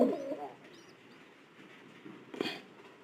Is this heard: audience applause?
no